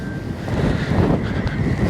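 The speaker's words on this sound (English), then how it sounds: "It starts to get windy now, which is nice. yeah. A nice sea breeze." Gusty sea breeze on the Welsh coast buffets the microphone in a low, rumbling rush that swells and fades.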